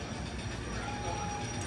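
The Great American Scenic Railway roller coaster train at Six Flags rolls along the track with a steady, dense rumble and a thin wheel squeal on top, loud and continuous, with no speech heard.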